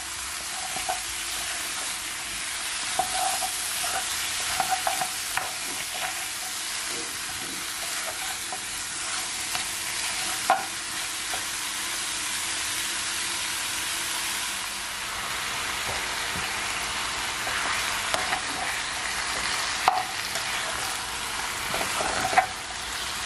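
Turkey neck sears in a pot for a Jamaican curry, a steady loud sizzle and crackle throughout with intermittent scraping and clunking of a spoon being stirred, close up and without talking.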